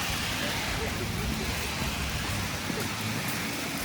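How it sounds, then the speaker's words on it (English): Steady rain turning to snow at night hisses on a surface, a dense continuous patter with a low rumble underneath, like traffic nearby. "It's raining and becoming snow."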